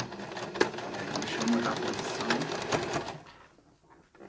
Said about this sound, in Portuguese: Fiz o retrocesso no início e vou costurar na margem da sapatilha.